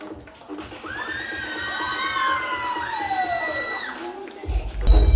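Crowd noise at a Batukamma celebration at a shopping zone, with rhythmic clapping, children shouting and cheering, and a siren-like wailing tone rising and falling over the gathering, ending in a louder thump.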